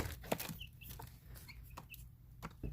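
Baby chicks at ground-up starter feed give scattered short, high peeps and soft clucks, close by over a steady low background hum, with no talking.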